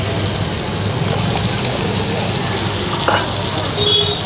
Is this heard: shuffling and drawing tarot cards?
no